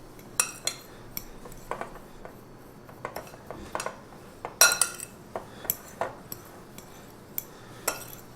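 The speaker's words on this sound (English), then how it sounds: "We're going to mix that in." A utensil scrapes and clinks against a bowl while erythritol monk fruit blend is stirred into chocolate protein muffin batter, with irregular sharp taps spread across the clip and no talking.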